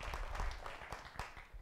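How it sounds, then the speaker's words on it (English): Scattered clapping from a workshop audience welcoming a presenter, quiet and uneven with individual claps standing out, tapering off over under two seconds. "please give Dan a big round of applause for me."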